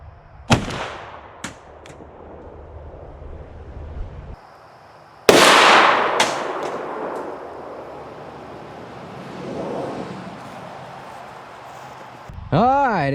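A shotgun fires Winchester 3-inch, 15-pellet double aught buckshot at a target: one very loud, sharp blast stands out, with smaller pops earlier, a trailing echo and people talking around the shots.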